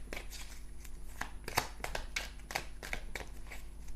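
Tarot cards are cut and shuffled in quick papery riffles and taps, a steady run of close, soft snaps and flutters heard alone without talk.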